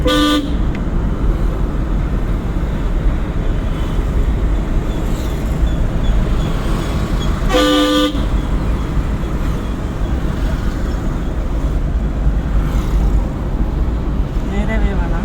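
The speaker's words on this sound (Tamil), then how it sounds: "ஹார்ன் அடிக்கணும்" Two short car horn honks during a driving lesson, one at the start and another midway, over steady road and engine noise with voices talking in the background.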